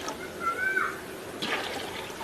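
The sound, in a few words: water being poured into a pot to boil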